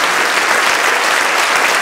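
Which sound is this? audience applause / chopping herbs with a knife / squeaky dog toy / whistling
audience applause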